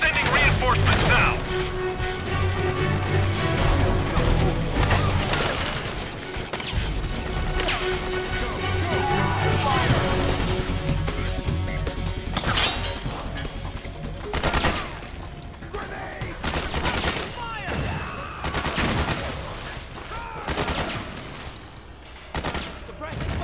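Dense gunfire and bursts of automatic weapons fire from the video game Metal Gear Solid 4: Guns of the Patriots, with crashes and impacts over a loud continuous battle soundtrack, and radio-style voices calling out now and then.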